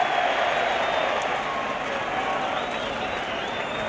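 Stadium crowd at a 1971 Queensland versus New South Wales rugby league match at Lang Park, a broad steady roar of many voices heard from a distance, continuous throughout.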